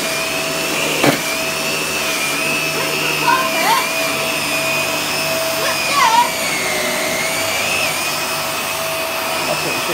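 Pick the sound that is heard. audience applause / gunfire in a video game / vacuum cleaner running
vacuum cleaner running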